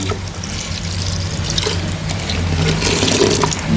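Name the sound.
pouring water into pot for cooking dal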